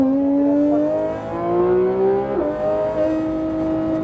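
A Porsche GT3 RS accelerating on the Le Mans Maison Blanche race circuit, engine note rising steadily and loud through the gears with a brief shift dip midway, close and continuous without talk.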